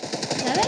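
Gunshots in a shooter video game, a quick run of rhythmic, evenly spaced shots at close range, fairly loud against a busy game background.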